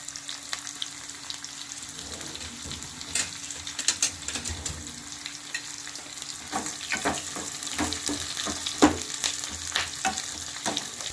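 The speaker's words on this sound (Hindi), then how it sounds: "प्याज का तड़का जो है वो कड़ी में बहुत अच्छा लगता है" Chopped onions and two red chillies frying in hot oil as a tempering for besan kadhi, a steady crackling sizzle with bursts of spattering, close and unbroken throughout.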